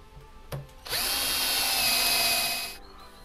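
A power drill boring holes into a pipe runs at high speed in one steady burst of about two seconds, close and loud, after a brief knock.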